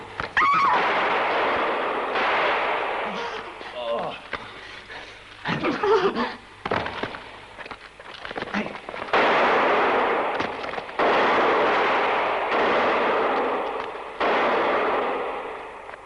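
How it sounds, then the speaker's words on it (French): Gunshots fired in a 1964 western adventure film, a series of sharp loud reports with long echoing tails, some spaced apart and some in quick succession, with no one speaking. "j'ai tiré sans même avoir eu le temps de viser"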